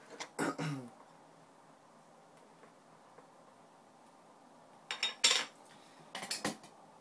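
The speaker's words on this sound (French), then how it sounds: "donc on ouvre le pot" A Nesquik tin used as a glue pot being opened: several short metallic clinks and scrapes in bursts with quiet pauses between, close and fairly loud against a faint room hiss.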